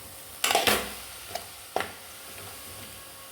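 Spinach stir-fry in a pan, a few quick sizzling bursts and scraping stirs, close and brief, separated by quiet gaps; nobody talks.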